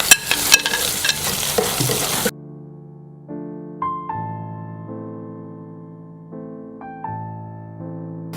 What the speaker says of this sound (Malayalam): ഒരു ചെറിയ കഷ്ണം ഇഞ്ചി, ഒരു 5 അല്ലി വെളുത്തുള്ളി ചേർത്ത് കൊടുത്ത് ചെറിയ നല്ല ലൈറ്റ് ഗോൾഡൻ കളറിൽ നമുക്കതൊന്ന് ഫ്രൈ ആക്കിയെടുക്കാം